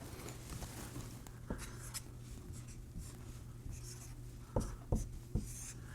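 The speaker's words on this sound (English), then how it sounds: "we will write it in a vertical fashion" Pen scratching across paper while working out a long multiplication problem by hand, soft and close, in a steady series of short strokes with a few sharper taps near the end; no talking.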